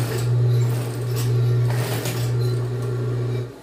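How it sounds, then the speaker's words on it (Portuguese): A sewing machine stitches a zipper seam on a jacket, giving a close, steady low motor hum with a fast needle chatter that runs for about three and a half seconds, dips slightly once, and then stops. "Agora eu bato a costura."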